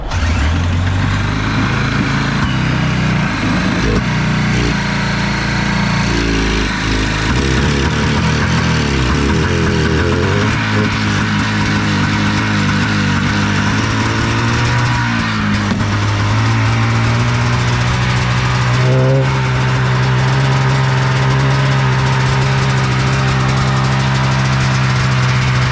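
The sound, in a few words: engine cranking over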